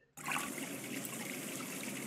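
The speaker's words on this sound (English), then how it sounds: "they have this area here and a little faucet." A little faucet in a mansion escape-room puzzle game lets water trickle steadily, starting abruptly and flowing as a soft even stream for about two seconds.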